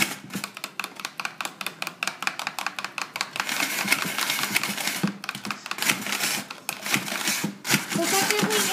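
A spoon mushes and stirs shaved snow cone ice in a rapid series of crunchy scraping clicks, close and continuous, growing denser toward the end, with no talking.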